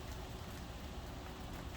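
Rain falls steadily through a night thunderstorm, a constant dense wash of drops at moderate distance with no rumble standing out.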